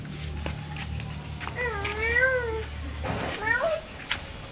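A cat meows twice, a drawn-out wavering cry followed by a shorter one, close by with faint background chatter and low rumble.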